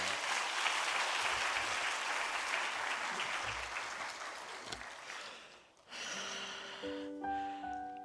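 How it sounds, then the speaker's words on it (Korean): A church congregation applauds to welcome a youth speaker at a Sunday school thanksgiving service; the clapping fades over several seconds and gives way to quieter room sounds and a faint breath near the microphone. "우리 박수로 환영해 주시면 감사하겠습니다"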